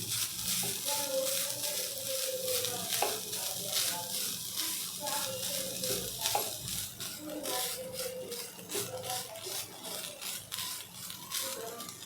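Grated coconut modak filling is sautéed in a pan, a continuous bright sizzle broken by repeated scraping strokes of a spatula, close and fairly even throughout with no talk.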